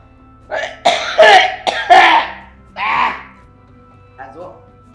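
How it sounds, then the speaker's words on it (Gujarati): A run of harsh coughs and throat-clearing bursts, several close together, then one more and a faint last one, loud and near, with no other voices. "આ જો આ ખાંસી બહુ થઈ ગઈ છે."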